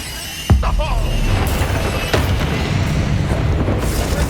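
A Confringo blasting spell going off in Hogwarts Legacy with a sudden sharp boom followed by a sustained rumbling roar, a second smaller crack midway through, and a character's voice briefly heard.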